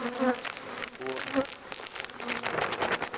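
Honey bees buzz steadily around an open beehive while a second hive body is being added, a dense continuous drone with a few louder passes close by and no talk.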